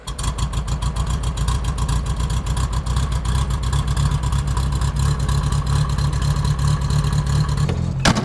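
A 1968 VW Bug air-cooled engine fitted with a new exhaust runs steadily and loudly close by, with a clattering, rumbling idle and light revs throughout, no talking.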